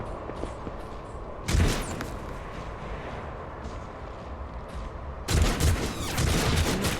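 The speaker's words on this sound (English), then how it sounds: "My AI allies are shooting me" Gunfire in Warhammer 40,000: Rogue Trader arrives as two loud bursts of rapid shots, a short volley early on and a longer, heavier barrage toward the end, over a low, steady game backdrop.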